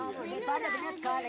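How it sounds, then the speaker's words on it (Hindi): Children shouting and chattering nearby in a home during a family visit, their high voices overlapping continuously and loudly with no clear pauses. "क्योंकि बच्चों का शोर बहुत ज़्यादा आई"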